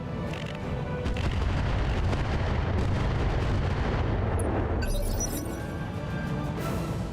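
Indirect artillery fire in BattleTech RogueTech: a sustained, dense rumble of booming shell impacts and launches rolls on for several seconds, with sharper crackling bursts near the end.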